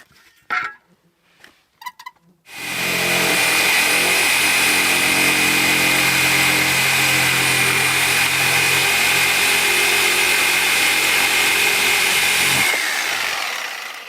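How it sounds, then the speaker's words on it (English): A Sawzall reciprocating saw cuts outdoors at a remote cabin, starting after a few faint knocks and then buzzing loudly and continuously for about ten seconds before stopping abruptly, with no talking. "I actually didn't enjoy using the Sawzall the first few times I used it, but now I'm loving this thing."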